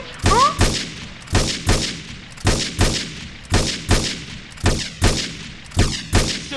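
Dual-wielded guns firing in GTA San Andreas on a rooftop, a regular rapid series of about a dozen loud, sharp shots in steady rhythm, each with a short echoing tail.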